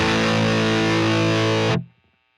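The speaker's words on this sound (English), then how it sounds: "So we have a momentary drive pedal here." A loud, heavily distorted electric guitar chord played through a momentary drive pedal rings out, then cuts off abruptly into silence.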